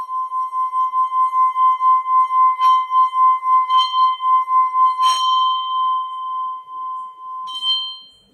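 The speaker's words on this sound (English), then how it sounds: "without hitting the bell, continuously rubbing the rim" An om singing bowl rings with a steady, pure tone as a stick rubs continuously around its rim. The pulsing drone wavers rhythmically, broken by a few brief scraping or clinking touches, close and clear without speech.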